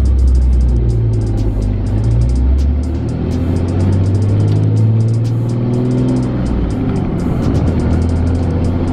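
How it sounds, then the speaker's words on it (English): A 2017 Cummins truck with a dual disk clutch accelerates hard, its diesel engine rising in pitch and dropping between gear shifts, loud and close from inside the cab. "That was a good second to third shift."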